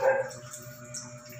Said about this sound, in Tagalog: Oh, tumatahol yung aso.